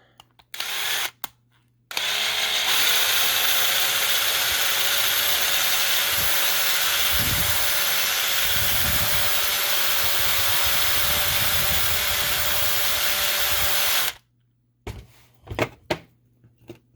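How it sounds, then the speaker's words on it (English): A power drill bores out a rivet on a Matchbox fire engine toy, a steady high whine running about twelve seconds close to the microphone, framed by brief handling clicks before and after. "Let's see if we can drill it out."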